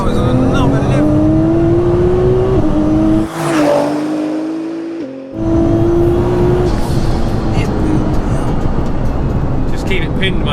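An 1100bhp Nissan GTR roars at full throttle, engine note rising steadily through the revs, dropping briefly at an automatic upshift, then climbing hard again, loud and close from inside the car with a voice talking over it.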